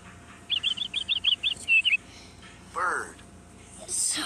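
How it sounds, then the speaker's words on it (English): A bird chirps in a quick run of about eight short, bright tweets, then a couple of separate higher calls follow after a pause. "Where is the bird?"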